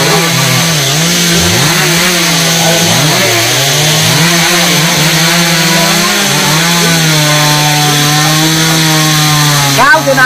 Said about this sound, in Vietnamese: nhóm ba của Hoa sẽ cưa hạ mấy cái cây này như thế nào nha